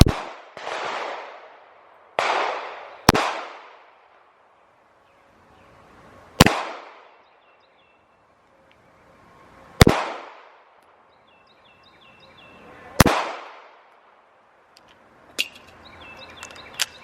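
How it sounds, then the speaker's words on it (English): A pistol fires slow, single right-handed shots at a shooting range, about six loud sharp cracks spaced a second or more apart, each trailing off in a long echo. "5 shots with his right hand again"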